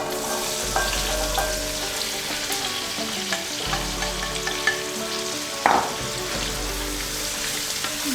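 Cauliflower tossed into a hot pan with turmeric, frying with a loud crackling sizzle, punctuated by clattering stirs and a sharp clank near the end, close and without speech.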